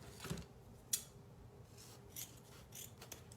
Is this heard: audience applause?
no